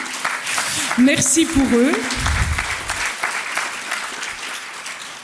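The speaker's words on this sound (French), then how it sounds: "Et là encore, on l'applaudit." Audience applause at an UNAFAM association gathering, steady clapping throughout while a voice speaks briefly over it near the start.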